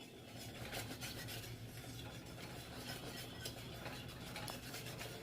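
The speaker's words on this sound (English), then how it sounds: "I'm just gonna go ahead and continue stirring it like this for about 1 minute" A spoon stirs bubbling homemade pizza sauce in a pot, giving steady scraping and rubbing strokes against the metal with soft bubbling underneath, faint and continuous, no talking.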